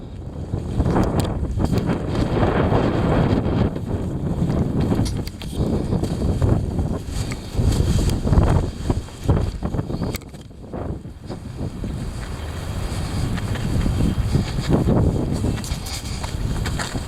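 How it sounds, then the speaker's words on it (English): Heavy wind blowing hard across an outdoor microphone, a loud continuous rumbling roar with surging gusts and buffeting, easing briefly midway before building again. "There you have it. The heavy wind."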